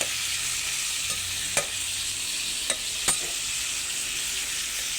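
Tomatoes frying in a pan for sautéed moringa leaves with anchovies give a steady, close sizzle, broken by a few sharp clinks of a spatula against the pan.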